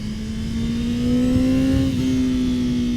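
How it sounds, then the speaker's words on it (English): A 2021 Honda CBR1000RR-R SP motorcycle in sport mode, power mode 3, throttling up: a steady, close engine drone that rises slightly in pitch and swells in loudness, then holds, with no talking. "let's throttle up a little bit"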